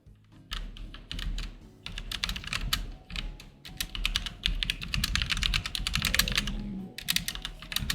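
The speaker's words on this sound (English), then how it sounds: "They can definitely hear me clicking." Rapid clicking and clacking of computer keyboard keys, fast irregular bursts of typing that run close and fairly loud throughout with no talking.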